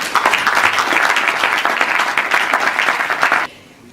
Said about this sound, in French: Donc je pense qu'on peut les applaudir.